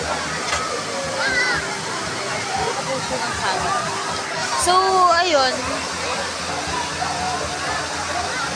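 Strong pressure of falling water at a rocky spot in Laguna, a steady rushing wash beneath a person talking over it.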